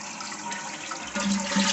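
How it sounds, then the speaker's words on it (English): A toilet flushes after being reset on a repaired PVC flange with a split metal ring on a ceramic tile floor. A short, close rush of water swirls and drains, growing fuller toward the end. "It's flushed very good."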